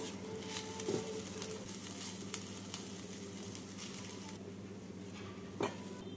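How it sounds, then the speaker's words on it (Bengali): Cauliflower paratha filling with chopped coriander and garam masala sizzling in a hot pan while being stirred, a steady low fry with occasional soft scraping taps, close and moderately quiet. "ধনেপাতা কুচি দিয়ে নাড়াচাড়া করে এর মধ্যে দিয়ে দিচ্ছি আমি হাফ টিস্পুন গরম মশলা গুঁড়ো দিয়ে নাড়াচাড়া করে পুরটাকে নামিয়ে নেব।"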